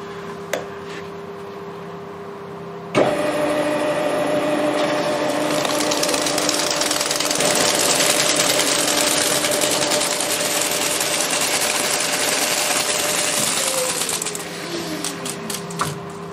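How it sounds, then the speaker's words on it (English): Milling cutter machining holes in a metal rack for ER40 collets, throwing off plenty of swarf; a loud, continuous cutting whine and grinding drone begins abruptly, holds steady for about ten seconds, then winds down. "off we go with the second hole, and I'll be doing the rest of the 14 other holes with this cutter"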